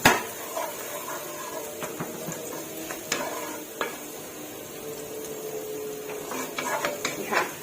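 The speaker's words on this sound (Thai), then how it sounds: "เราผัดกระเทียมให้เหลืองหอมค่ะ" Garlic is stir-fried in a pan for a Thai-Chinese pork dish with preserved olive, a soft steady sizzle broken by scattered scraping and clinking of a spatula against metal.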